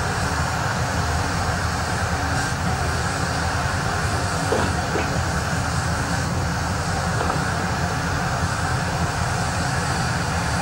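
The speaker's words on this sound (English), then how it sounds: "That train with two locomotives and four articulated sets has set off for the west" A Union Pacific train with two locomotives and four articulated sets pulls out of the Salt Lake City rail yard, a loud, steady rumble of engines and rolling wagons heard alone, with faint clicks along the track.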